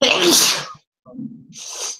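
A single loud, close sneeze bursts out, then a short pause, a quiet vocal sound and a breathy exhale follow, during a wrestling talk show.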